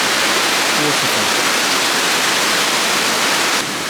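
A waterfall by a bridge on a trail in the French Alps roars as a dense, steady rush of falling water, loud and close, filling the whole moment without a break.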